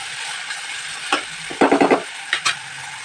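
Onion and tomato fry in a pan with a soft constant sizzle, broken by a few quick scraping stirs of a spoon, close and fairly quiet.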